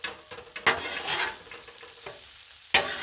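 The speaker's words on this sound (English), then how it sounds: "Another quick stir." Chicken tortellini pasta stirred on a Blackstone griddle: scraping spatula strokes stand out in a few sharp bursts over a steady close sizzle, with no talking.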